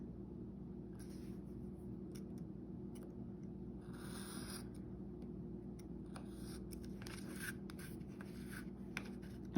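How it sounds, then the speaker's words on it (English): Blade cutting card free along the edge of a small wall-art frame, soft scraping and slicing strokes in irregular bursts, close but quiet over a low steady room hum, with no talking. "I'm just gonna cut it free by cutting along the edge of the frame"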